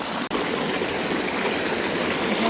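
Drinking water from a mountain spring in the hills of Nepal pours and splashes in a steady, loud, unbroken rush, with one very brief dip near the start and no talking.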